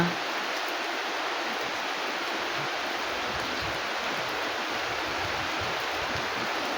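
Rain falling in the hills of Arunachal Pradesh makes a steady, even hiss that fills the whole clip, with no breaks and no voices.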